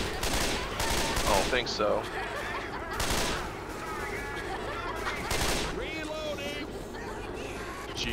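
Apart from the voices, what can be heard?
gunfire in the video game Left 4 Dead 2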